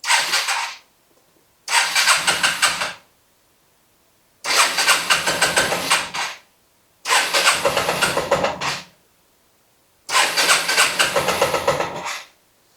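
A 1984 Yamaha Riva 180 scooter engine cranked repeatedly with the electric starter, five separate loud whirring bursts of a couple of seconds each separated by silence, struggling and hard to start without settling into a steady idle.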